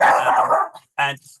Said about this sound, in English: a noisy dog in the background.